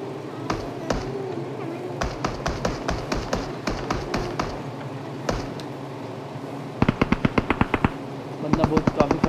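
Gunfire in the mobile battle-royale game PUBG Mobile: repeated rapid bursts of automatic shots, some close and sharp, with short pauses between volleys, while a person talks over the action.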